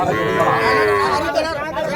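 Native-breed cattle moo loudly nearby at a cattle market in Madrapalli, a long low call followed by another, amid background chatter.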